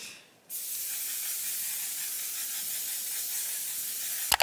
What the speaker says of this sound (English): I purposely wait till I put my lip product on to use the setting spray because I want everything to stay.